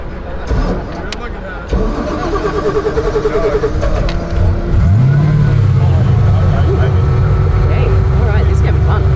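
A 6x6 Ferrari Testarossa's engine cranks, then catches and settles into a loud, steady idle close by, with people talking over it.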